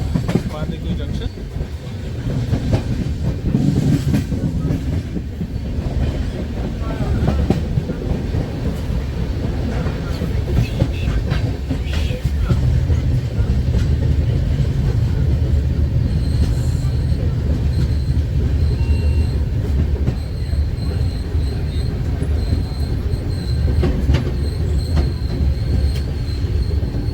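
The 12015 Ajmer Shatabdi Express rolls into Bandikui Junction in Rajasthan, heard from on board as a loud, steady rumble with rattling carriages and high wheel squeals toward the end.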